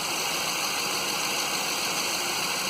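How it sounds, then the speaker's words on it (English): The engine of a 2008 Ford F-150 runs steadily after alternator, idler and tensioner bearing repairs, giving a constant, smooth, fairly quiet hum with steady whine tones and no variation. "The engine sounds quieter"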